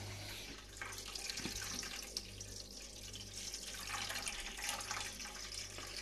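Water recirculates through the pump of a Brewzilla brewing system heated to 50 degrees, a quiet continuous trickle and splash over a low steady mains-like hum, with no talking.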